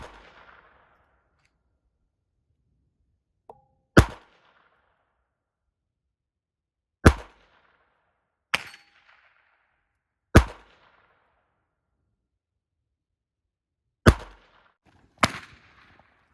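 A Ruger Mark IV Hunter pistol firing single shots outdoors, sharp loud cracks spaced a few seconds apart, six distinct reports with short decays and silence between them.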